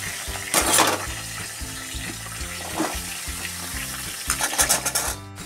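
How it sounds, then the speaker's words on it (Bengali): Vegetables stir-fried in a wok with five-spice seeds, bay leaf and dried red chillies, giving a steady close sizzle with bursts of stirring and scraping over a continuous musical backing. "সবজিগুলোকে লাল লাল করে ভেজে নেব।"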